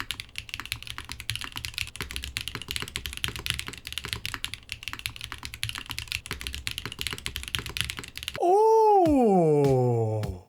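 Rapid, steady clacking of keys typed on a mechanical keyboard, fairly close, followed by a short wailing, moaning sound at the end.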